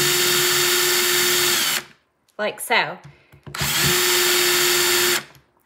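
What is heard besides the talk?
power drill drilling through a tin can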